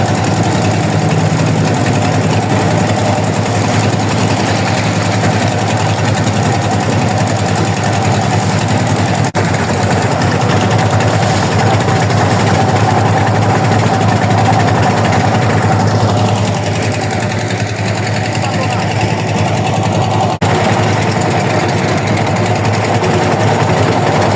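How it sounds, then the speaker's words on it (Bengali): A trawler boat's steady, loud engine drones continuously with a rattling, vibrating hum near Bholaganj, Sylhet, running without pause throughout; no talking. "ট্রলার এখন ছেড়ে দিছে 0 পয়েন্টের উদ্দেশ্য।"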